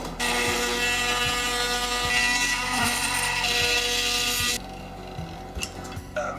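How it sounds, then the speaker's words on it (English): An oscillating multi-tool cuts and trims a shower fitting, buzzing continuously and harshly up close with a fast ticking rhythm, then dropping to quieter, intermittent rattling toward the end. "I'll get the multi-tool, we'll just clean it up."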